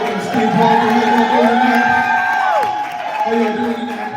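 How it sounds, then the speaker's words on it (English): A live audience at a Veterans Growing America event cheers and applauds as someone walks in: a continuous loud crowd roar with rising whoops and shouted voices. "I need a round of applause as I walk in the side."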